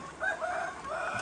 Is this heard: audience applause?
no